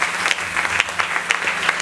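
A church congregation claps in a dense, steady burst of applause to acclaim Jesus, close and fairly loud, with no voices rising above it.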